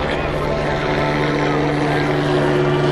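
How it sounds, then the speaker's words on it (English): Helicopters flying over a motor racing circuit, a loud continuous engine and rotor drone with steady tonal hum filling the whole stretch, with no distinct blade chop standing out. "Helicopters overhead,"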